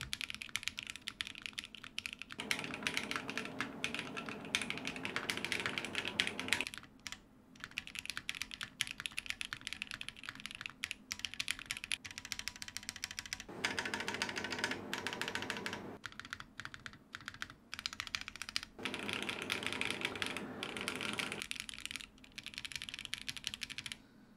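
Continuous typing on the Duo M keyboard by Duo Foundry, a simple-build mechanical board, with steady rapid keystrokes and several denser bursts of clacking, close and clear with no talking.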